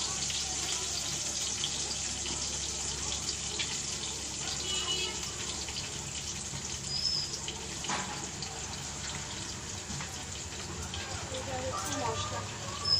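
Water runs steadily from a kitchen tap while spices are being prepared for cooking, a continuous hiss that lasts the whole clip at a moderate, fairly close level.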